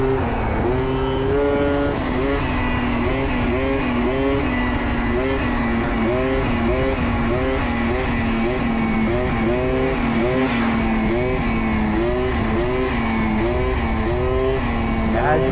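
A Yamaha Booster 70cc scooter's two-stroke engine and exhaust rev close by in repeated rising and falling surges, a buzzy nasal tone cycling rhythmically throughout.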